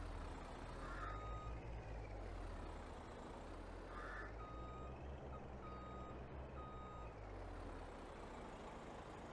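Truck reversing in Farming Simulator 22, with a steady engine drone under repeated high reversing beeps that come in short runs with brief pauses between.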